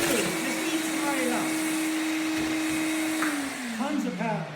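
HEPA-certified wet/dry vacuum cleaner roaring steadily as it sucks up a phone book through a 10-foot hose, its motor tone dropping near the end under the load while someone talks over it.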